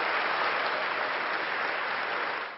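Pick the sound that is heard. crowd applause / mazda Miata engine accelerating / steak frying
crowd applause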